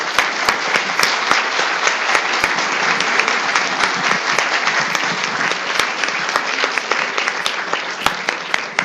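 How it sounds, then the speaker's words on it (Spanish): Applause from a conference audience after a speaker's talk at an institutional law event: a steady, dense clapping of many hands, sustained evenly throughout with sharp individual claps standing out. "le vamos a brindar un aplauso"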